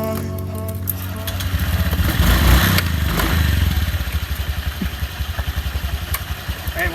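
Honda Vario 125 Gen 3 and Vario 150 Gen 4 scooters start off on a test ride, engines rising in a loud rev, then settling into a pulsing, throbbing idle close by.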